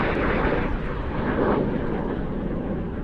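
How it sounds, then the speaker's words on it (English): Iskra jet aircraft pass at an airshow, a broad continuous jet rush heard at moderate distance with a slight swell near the middle, alone without talk. "we'll just wait for the Iskras to come through"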